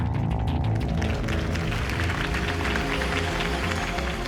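Crowd applause at a Harvey Dent mayoral campaign rally in Batman: The Telltale Series, a dense, steady wash of clapping and cheering that fills the whole moment without a break.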